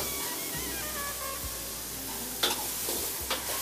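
Fish with diced spring onion being stirred in a hot pan, giving a continuous close sizzle with a few sharper scrapes and clinks near the end, without speech.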